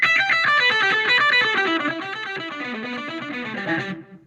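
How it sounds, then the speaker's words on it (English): Distorted electric guitar plays a fast run of evenly picked notes descending in pitch, loud and steady, ending abruptly after about four seconds. "The 5th shred pentatonic lick that I'm going to teach you is what I call descending pentatonic 8s"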